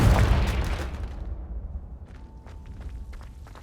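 A Confringo blasting curse in Hogwarts Legacy lands with a single heavy boom at the start that rumbles and fades out. A few faint clicks and a thin tone follow in the quiet tail.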